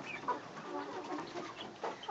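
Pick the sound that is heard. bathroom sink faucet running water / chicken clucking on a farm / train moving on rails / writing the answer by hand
chicken clucking on a farm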